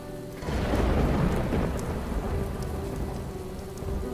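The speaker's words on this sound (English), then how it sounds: "Now it's raining on just us." Steady heavy rain falls with a deep rumble of thunder rolling in early and fading slowly, a loud continuous downpour with no talking.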